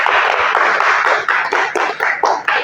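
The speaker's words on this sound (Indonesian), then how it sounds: "Tepuk tangan dulu untuk kelompok 1" Applause for the first student group after their presentation at a vocational teacher assessment session in an automotive engineering program, Padang; dense clapping from a room of people, steady then breaking into short bursts that fade.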